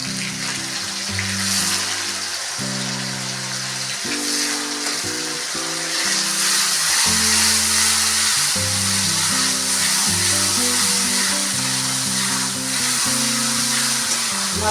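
Ginger-garlic paste and spice mix fry in a pan with a constant broadband sizzle, partly covered by louder background music that plays throughout.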